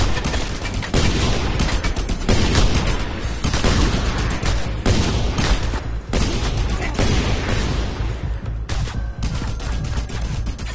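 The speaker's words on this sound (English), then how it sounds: "Mounted gun!" A mounted gun in the Just Cause 2 video game fires continuously for about ten seconds, a loud, dense roar of rapid shots and booming impacts with brief dips, filling the whole stretch with no talking.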